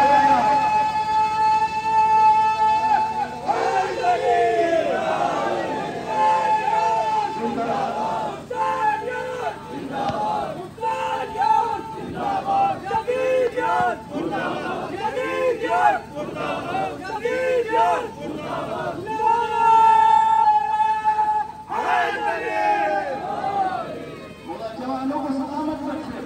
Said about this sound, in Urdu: ہم نے نعرے اور لگائے ہیں اور ایک نعرہ اور لگایا ہے